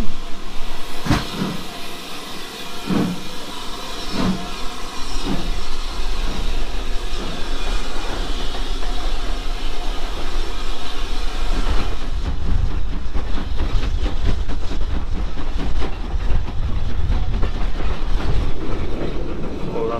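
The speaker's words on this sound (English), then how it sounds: "We're on the last train of the day and on our way home, and Fudge, you enjoying this?" Train carriage rolling steadily along rails, a continuous rumble with periodic clicks and clacks, getting busier and more rattly partway through.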